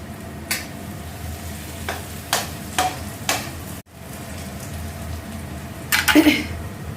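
A tempering of spices sizzles in a pan while being stirred, a low continuous frying hiss with a few distinct scraping strokes and a louder burst near the end, close by and without talking.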